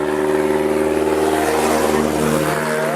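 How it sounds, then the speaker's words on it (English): A giant tow truck hauling a load drives past downtown, its heavy engine droning loud and close with a steady rumble that shifts slightly in pitch as it goes by. "here comes a giant tow truck. It's so loud."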